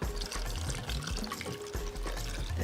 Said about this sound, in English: And you cover it with warm water.